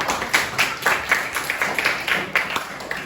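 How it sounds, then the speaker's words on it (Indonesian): A school class claps in rhythm during a lesson on computational thinking and AI, a brisk run of about a dozen sharp, even claps from a modest group in a room. "Ya, tepuk tangan dulu."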